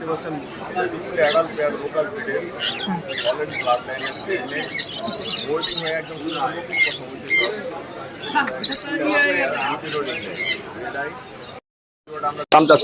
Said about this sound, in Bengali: কনুর পাখি রয়েছে টিয়া পাখি রয়েছে তারপরে লাভবার্ড পাখি রয়েছে কোকাটেল পাখি রয়েছে